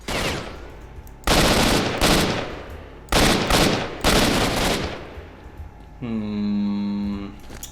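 Automatic AK rifle fire in the S.T.A.L.K.E.R. video game: several loud sustained bursts separated by short pauses, followed by a tonal mechanical whir.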